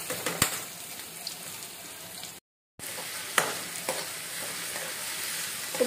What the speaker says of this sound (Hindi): तेल गरम हो गया, इसमें डालेंगे प्याज